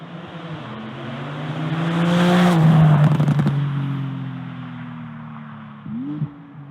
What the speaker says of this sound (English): I love this new exhaust system. It sounds awesome.